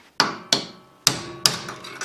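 A carpentry hammer strikes a metal part of a Countax C300 mower sideways four times in a slow irregular rhythm, each blow a sharp ringing clang that fades quickly, close and loud.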